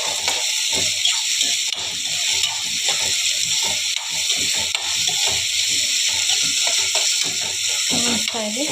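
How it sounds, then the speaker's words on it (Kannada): Onion and tomato fry in a pan with green chillies for a masala bread roast, a steady loud sizzle with stirring scrapes throughout and a brief voice near the end. "ಈರುಳ್ಳಿ ಟೊಮೆಟೊ ಚೆನ್ನಾಗಿ ಫ್ರೈ ಆಗಬೇಕು, ಹಾಗಾದರೆ ಅದು ಕ್ರಿಸ್ಪಿಯಾಗಿ ಬರುತ್ತೆ"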